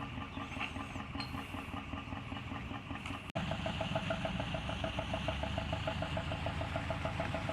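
A narrowboat engine thumps steadily at a slow, even beat, close by and continuous, with a brief click partway through.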